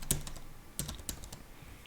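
Typing on a computer keyboard, a few sparse, faint key clicks spread out over a couple of seconds against a quiet room background.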